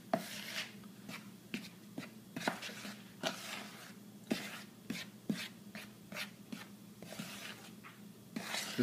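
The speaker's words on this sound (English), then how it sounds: "You can just take a spoon or a fork and just kind of mix it together." A fork stirs dry ingredients in a bowl for pumpkin spice nut bread, giving close, quiet, repeated scraping and tapping strokes in an uneven rhythm, with no talking.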